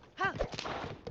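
In the video game The Legend of Zelda: Tears of the Kingdom, a horse's hooves clop in a brief quick flurry, close and moderately loud, with a short whinny-like sound at the start.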